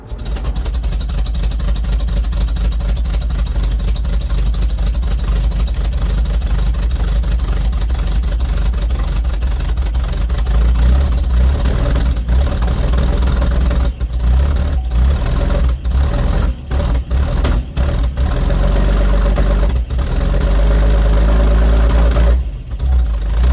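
A cold-started Ford engine with a worn starter runs at a steady idle, its loud, continuous low rumble filling the whole stretch close by.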